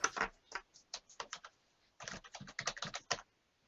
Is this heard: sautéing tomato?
no